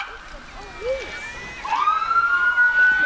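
A Kingston police car's siren sounds as it rolls through a Christmas parade, a wavering electronic wail that rises and holds steady, moderately near amid crowd noise.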